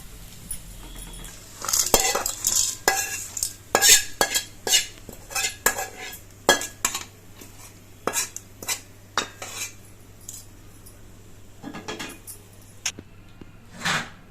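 A spoon stirs and scrapes ingredients, including coconut, sautéing in a pan for fig thuvayal, making close, irregular clinks and scraping knocks with pauses between bursts.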